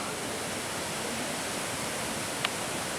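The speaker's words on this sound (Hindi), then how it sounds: "झरने फूटते हैं तो लगता है" A waterfall gushes in the mountains near Kedarnath, a dense continuous roar of falling water with no pauses, loud and close.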